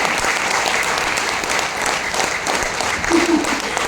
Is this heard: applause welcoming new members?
yes